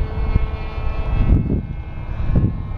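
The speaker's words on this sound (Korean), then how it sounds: "귀엽다 비행기." An airplane passes, a loud, close, steady engine roar with rumbling swells and no speech over it.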